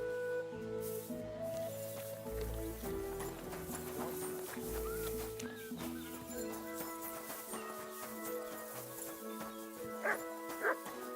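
A dog barks several times in the medieval video game Kingdom Come: Deliverance 2, mixed with clopping horse hooves and background game sounds. Indistinct voices can be heard now and then.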